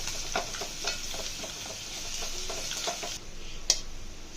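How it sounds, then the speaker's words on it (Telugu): Ginger is stirred into egg curry frying in a pan, with a steady soft sizzle and a rhythmic run of spoon scrapes, close and fairly quiet. "అల్లం యాడ్ చేసుకొని బాగా కలుపుకోవాలి"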